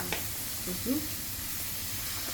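Meat goes into hot oil with a steady, close frying sizzle and hiss that holds evenly throughout, while a voice speaks briefly over it.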